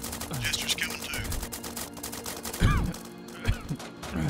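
Bursts of rifle gunfire in a Roblox military rescue battle, sharp cracks and short volleys scattered over a few seconds, with one louder nearby shot, mixed with other battle noise and shouted voices.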